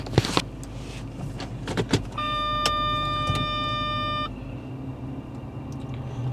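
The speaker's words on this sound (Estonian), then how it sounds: "alustuseks siis saavad kõik kuulata autosõitu vaikuses" Interior of a VW Touareg V10 TDI while driving, with a low steady engine and road rumble, a few clicks and knocks, and a steady electronic warning chime held for about two seconds mid-clip.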